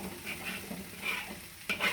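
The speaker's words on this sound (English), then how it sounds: "Stir my rice again." Rice for nasi goreng is stirred in a frying pan, a steady soft sizzle under brief scraping strokes of the spoon, with a louder pair of scrapes near the end.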